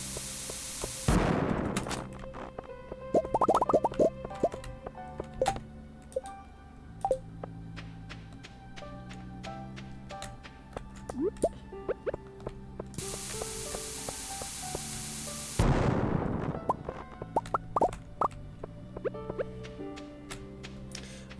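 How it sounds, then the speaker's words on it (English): Bombs explode in the Stardew Valley mines, with two sharp, loud blasts several seconds apart over light game music and small clicking effects. "why do I keep standing in my own explosions?"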